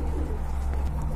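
A brief, close burst of soft cooing comes from feather-footed Blue Satinette pigeons, heard over a heavy low rumble of background noise.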